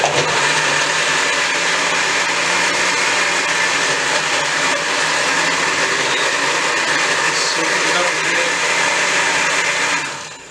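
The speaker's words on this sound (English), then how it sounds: "Should have brought out the heavy duty blender." A powerful Hamilton Beach blender motor roars steadily and loudly for several seconds at close range while making strawberry sorbet, then winds down at the end.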